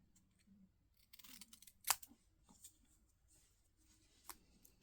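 Paper for a card-making craft is cut with scissors, making very faint, close snips and rustles, with one sharper snip near the middle and no talk.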